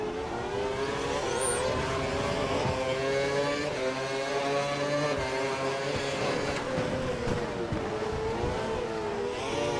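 A Formula 1 car engine from the F1 2012 racing game at Singapore, droning loud and steady with shifting revs, rising and falling in pitch throughout as the car is pushed around the lap.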